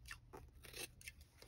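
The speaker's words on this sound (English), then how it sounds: "if it doesn't, you just have to take your scissors" Scissors trimming hair from hide leather, several quick close snips in a loose rhythm, faint and heard alone.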